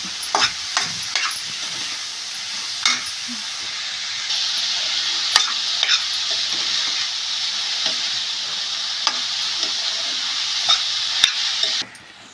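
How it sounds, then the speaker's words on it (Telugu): Ridge gourd pieces fry in a pan with golden brown onions, giving a steady, bright sizzle throughout, broken by occasional clicks and scrapes of stirring, then cutting off abruptly near the end. "ముందుగా కట్ చేసి ఉంచుకున్న బీరకాయ ముక్కలు కూడా వేసి అవి కూడా కొంచెం వేగనివ్వాలి"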